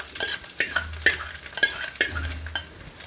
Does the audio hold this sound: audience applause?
no